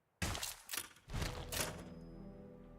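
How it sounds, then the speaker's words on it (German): A factory explosion in the video game Anno 1800: a sudden burst of crashing, rumbling blasts hits in several waves, then settles into a low lingering rumble with a thin ringing tone. "Eine Explosion erschüttert eine ihrer Fabriken."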